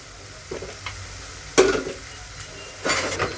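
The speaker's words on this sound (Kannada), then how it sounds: "ಇವಾಗ ರೈಸ್ನ ಸೇರಿಸ್ಕೊಂಡು ಕ್ಲೀನಾಗಿ ಒಂದ್ಸಲ ಮಿಕ್ಸ್ ಮಾಡ್ಕೊತೀನಿ" Rice being stirred into fried ingredients in a pan, giving scraping and clinking stirs at intervals over a low sizzle, with the loudest bursts in the middle and near the end.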